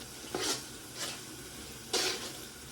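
Twelve green chillies stirred into a frying chicken biryani masala, three loud scraping stirs of a utensil against the pot over a soft, low background sizzle.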